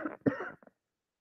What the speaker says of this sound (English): Clearly, I still have my cough.